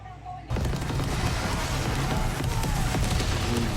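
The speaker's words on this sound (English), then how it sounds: "those are some good explosions." Explosions from a Halo television episode burst in, a sudden dense roar of blasts and rumbling battle noise that stays loud and continuous after a quiet start.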